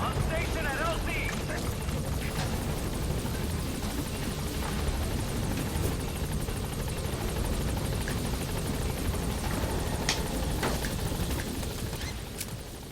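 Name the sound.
Pequod helicopter arriving at landing zone, from video game Metal Gear Solid V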